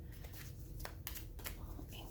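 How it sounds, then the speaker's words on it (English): Tarot or oracle cards being shuffled by hand, a few quiet, irregular riffling bursts over low background noise. "I know I don't shuffle cards correctly, sorry."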